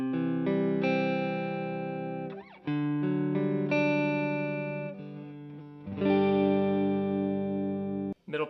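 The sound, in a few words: $85 Amazon Telecaster-style electric guitar, neck pickup, through Fender Pro Junior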